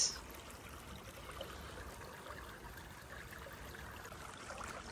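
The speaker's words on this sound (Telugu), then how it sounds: "ఇక్కడ నీళ్ళు వస్తున్నాయి. So sound వినిపిరా?" Water flows steadily at the Bidar Narasimha Swamy temple. A faint, even rushing runs throughout with no other sounds.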